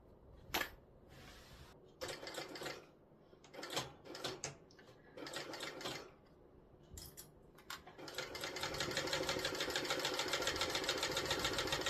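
A sewing machine stitches along the top edge of a tote bag in several short bursts separated by pauses, then runs in one longer continuous whir, close and fairly quiet.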